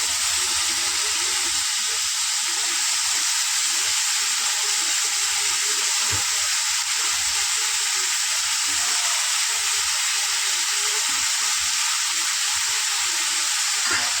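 Cauliflower and capsicum stir-fry in a pan with a steady, close hiss and sizzle that holds evenly throughout, broken by a few soft scrapes and knocks, with no voices.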